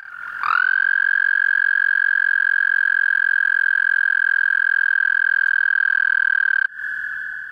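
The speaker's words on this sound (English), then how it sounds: "the American toads sound like this" A single long, steady, high musical trill of a toad rings out loudly and evenly for about six seconds, then stops abruptly.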